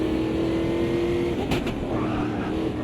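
A 6.8 litre, 473 horsepower racing game car weighing about 1.3 tonnes roars with a steady, loud engine drone throughout, its tone holding constant and then briefly surging midway.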